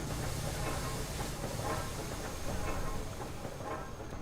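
Steady, broad steam hiss from the Amnesia: The Dark Descent game fills the whole stretch at an even level, with faint rhythmic rumbling and clatter beneath it and no speech.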